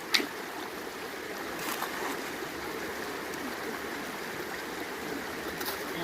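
Steady rushing wash of water carrying gravel down a small gold-prospecting sluice on a wild river, continuous and fairly close with a faint clatter of stones.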